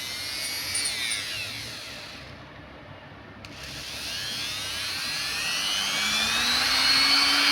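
A DF-6 electric enameled wire stripper runs at maximum speed, around 10,000 RPM, with a close, steady high-pitched motor whine that dips briefly, then climbs back and builds in loudness.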